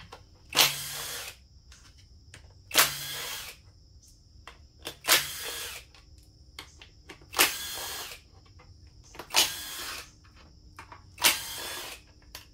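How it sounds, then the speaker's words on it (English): Power tool spinning out valve cover bolts on a 2000 Toyota Avalon, six short, sharp whirring bursts at a regular pace with quiet pauses between them, close by. "go ahead and hit these little bolts, these tins all around the valve cover"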